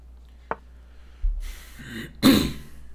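A man clears his throat and coughs during a live online blitz chess session, a brief dry hack followed by two heavier, rough throat-clearing bursts, close and loud in a quiet room.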